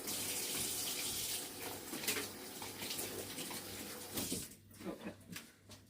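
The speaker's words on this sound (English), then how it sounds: "need to wash my hands" Tap water runs steadily into a sink for handwashing in a kitchen while tiered cakes are being coated in ganache, a low, continuous splash with a few brief clatters and knocks near the end.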